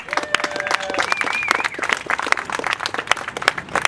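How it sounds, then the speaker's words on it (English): Rally audience applauding people who stood up to share their stories in support of the ACA, steady broadband clapping filling the hall with a few whoops and voices rising over it. "can we give them a round of applause too?"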